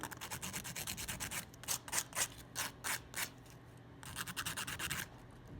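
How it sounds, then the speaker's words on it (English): Sandpaper rubs rhythmically along the edge of a hollowbody guitar body, a series of short, close scratchy strokes in quick bursts with a brief pause midway. "I'll take some of my sandpaper and I'll sand it smooth"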